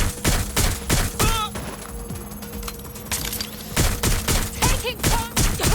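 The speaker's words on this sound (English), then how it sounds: "Suspect has opened fire!" Heavy gunfire in the Watch Dogs: Legion video game, rapid close shots and volleys throughout with ricochet-like whines and game sound effects, no talk heard.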